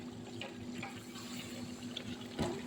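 Steady watery rushing and gurgling with a low hum throughout as water boils in a pot over lowered heat for biryani, with a brief louder surge near the end.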